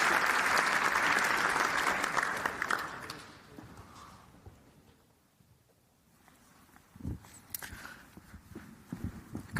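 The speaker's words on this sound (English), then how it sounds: "I'd like to round of applause to the panelists" Conference audience applauding panelists at a NATO afternoon session, a loud dense burst of clapping that tapers off over several seconds to near silence before scattered room sounds return.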